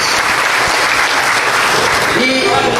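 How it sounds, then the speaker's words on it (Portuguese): A crowd at a political speech applauds in a loud, steady wash of clapping that runs throughout, with a voice rising over it near the end. "E os aplausos de vocês aqui, reiterados"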